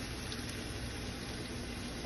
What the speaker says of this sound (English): That's the ackee boiling right there.